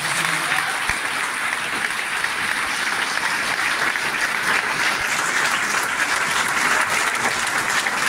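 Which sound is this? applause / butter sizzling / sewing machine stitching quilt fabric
applause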